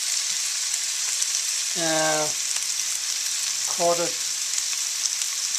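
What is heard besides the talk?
tomato sizzling as it cooks in a pan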